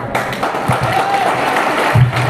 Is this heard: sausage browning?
no